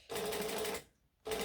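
A foot-controlled sewing machine stitches during alterations in two short, close bursts separated by a brief silence.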